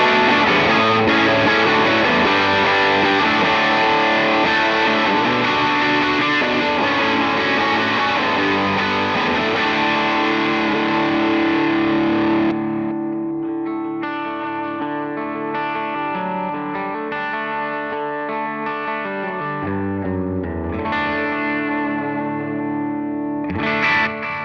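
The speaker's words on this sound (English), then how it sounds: "so I could get to that fuzzy sound if I wanted to." Electric guitar runs through a fuzzy drive patch on a Line 6 HX Stomp, a loud, saturated sustained chord for about twelve seconds, then a series of gritty picked notes and chords, close and alone without talk.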